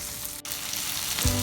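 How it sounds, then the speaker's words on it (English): Steady crackling sizzle of stuffed pomfret fish frying in a pan over a low flame, close and continuous, with a brief dip partway through and no voices. "the fish is frying from the other side"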